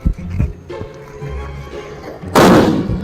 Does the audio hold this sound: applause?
no